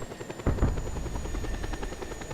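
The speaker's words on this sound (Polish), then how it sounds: "na razie bierzemy sobie śmigłowiec Już z rakietami" A rocket-armed helicopter in the video game Just Cause 2 keeps up a constant rotor chop and engine whine, with a brief louder thump near the start and no talk over it.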